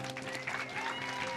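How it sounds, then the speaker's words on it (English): Audience applause at a community forum as guests come to the stage, brief clapping mixed with tonal background music and some crowd noise, fairly faint. "Give them a big round of applause."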